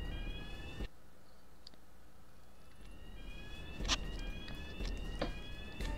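An alarm sounding in the video game Tokyo Dark, thin high warbling tones sweeping across the clip with a few sharp transient clicks, over a low steady background rumble.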